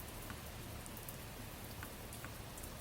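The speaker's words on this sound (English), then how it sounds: "Did you hear that? The sound of the rain?" Rain in the video game Adventures of Fei Duanmu, a steady, faint wash of falling drops at a rooftop edge, with occasional soft patters and no voices.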